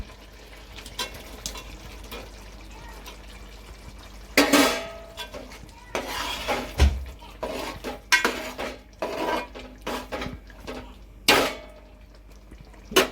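Paneer is tipped into a pan of cooked pea gravy and stirred, loud close clanks and scrapes of a spoon against the pan in irregular bursts, with a voice talking between them.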